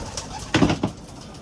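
A couple of soft, low pigeon coos close by, with faint rustling around them.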